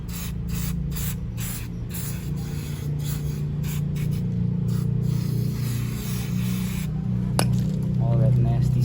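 Cleaner is sprayed onto the chain of a Husqvarna Svartpilen 401 motorcycle in a long run of quick, close hissing bursts over a steady low hum, ending in one sharp click.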